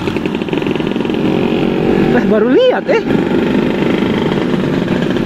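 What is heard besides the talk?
Vespa scooter engine with two-stroke silencer exhaust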